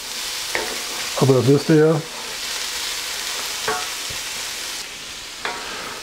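Onions fry and get stirred in a pan, a steady hiss and sizzle running throughout, with occasional spoon scrapes and a voice talking briefly over it.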